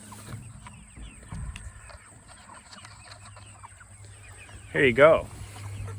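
Broiler chickens in Salatin-style chicken tractors, about 40 birds each, cluck softly in the background, with a louder burst of clucking near the end, while a person talks close by.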